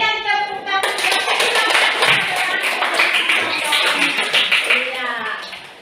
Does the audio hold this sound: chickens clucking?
no